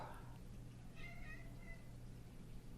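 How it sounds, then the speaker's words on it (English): A pet cat named Sprock gives a short, faint meow partway through, heard over a steady low hum in a quiet room, with no talking. "my cat's talking to me"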